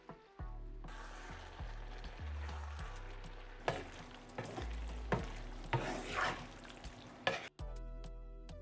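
Udon noodles stir-fried in a wok with vegetables and meat for a gochujang noodle dish, steady loud sizzling broken by repeated scraping stirs, with background music running underneath.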